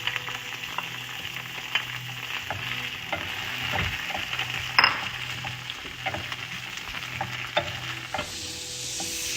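Onions roasting in a pan with green chilies make a steady crackling sizzle, close by, with frequent stirring clicks and scrapes throughout and no one talking.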